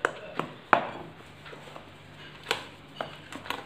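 A spoon stirs soft muffin batter in a bowl while milk is added, giving a few scattered light clinks and scrapes against the bowl at an uneven pace, close and fairly quiet.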